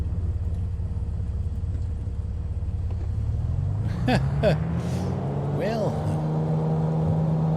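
An aircraft's engine drones and rumbles as it rolls down the runway at Tacoma Narrows Airport in Microsoft Flight Simulator 2020, a low, steady hum that climbs slightly in pitch midway, while someone talks over it.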